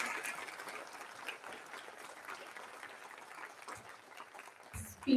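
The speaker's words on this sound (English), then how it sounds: "This beautiful speech deserves a huge round of applause." An audience claps after a speech, a faint, steady patter of many hands that holds throughout and thins slightly before a brief louder bump at the very end.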